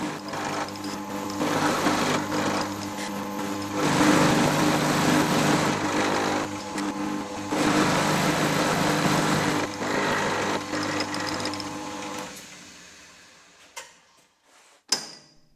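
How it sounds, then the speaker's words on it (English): A milling machine cuts an aluminium alloy block, a steady close whirring, rattling machining drone that swells and eases in long passes before stopping, followed by a couple of sharp clanks in the quiet. "it's an opportunity to get in some more practice on the mill"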